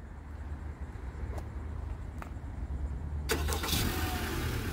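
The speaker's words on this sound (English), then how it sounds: "And then here's your remote start." A 2022 Honda Civic Hatchback Sport remote-starts from outside: a quiet lull gives way to a sudden starter crank and the engine catching into a steady, close idle.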